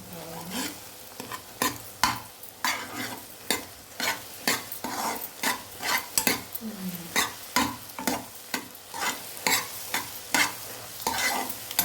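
Egg for egg fried rice frying in a hot pan while a spatula stirs and scrapes it, steady sizzle broken by a quick run of close, rhythmic scraping strokes throughout.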